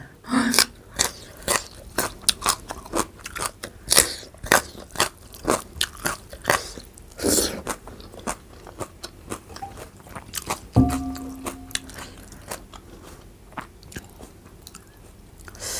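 Someone eats rice with olive chili dip and crispy fried dried fish, giving close, loud crunching bites and chewing in an uneven rhythm throughout, with no talk.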